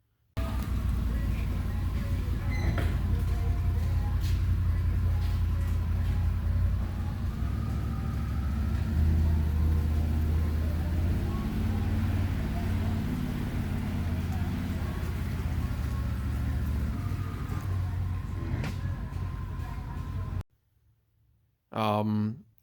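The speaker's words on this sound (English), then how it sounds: "I'll put a little clip in here of the unit moving." A Can-Am Commander HD10 Limited side-by-side drives along with a steady low engine rumble and road noise for about twenty seconds, then cuts off to near silence before a brief final burst.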